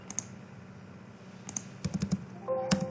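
Computer keyboard shortcut keys pressed in quick succession while working in 3ds Max, a cluster of crisp near clicks with a few isolated taps before it and faint background hum.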